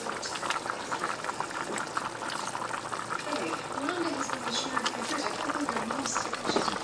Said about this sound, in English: we can put 3 tablespoons of vinegar. Just regular white vinegar.